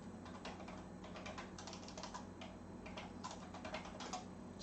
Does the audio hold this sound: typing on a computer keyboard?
yes